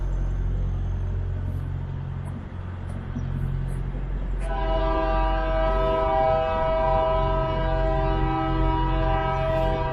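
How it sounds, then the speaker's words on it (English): Low rumbling train noise rolls steadily, then a loud sustained horn blast sounds from about midway and holds to the end. "here comes the train."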